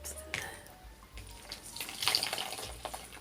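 Hot water splashing and pouring into a basin during a facial spa treatment, close and gentle with uneven trickles and a fuller gush near the end, no voice over it.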